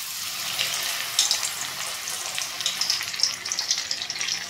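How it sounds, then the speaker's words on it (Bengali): Paneer papad rolls fry in hot oil, giving a continuous close, bright sizzling hiss with small crackling bursts throughout. "দেখুন, আমি এগুলো ভেজে নিচ্ছি।"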